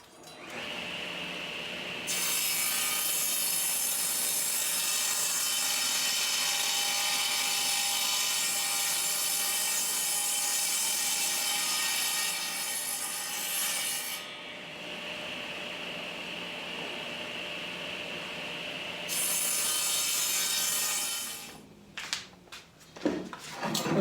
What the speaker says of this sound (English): I'm going to put this surface through the sawmill, or through the table saw